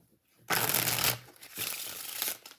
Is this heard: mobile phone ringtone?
no